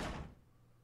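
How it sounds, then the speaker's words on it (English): A door closes in a video game with one heavy, loud thud that dies away quickly into a quiet low hum. "Am I supposed to close doors after me?"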